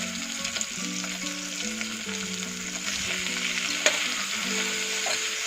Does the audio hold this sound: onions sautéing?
yes